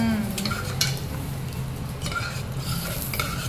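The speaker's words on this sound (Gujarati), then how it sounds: "હા જીરાનો નીમનો જ વઘાર કરવાનો" Steady frying sizzle of a cumin tempering with a utensil stirring and scraping in the pan, close and continuous, no voices.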